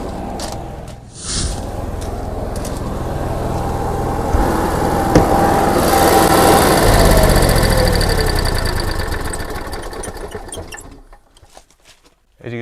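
A Cummins Onan 5500 gas generator runs with a steady, loud mid-pitched engine drone and a rapid buzzing rattle for about ten seconds, then winds down and falls quiet near the end.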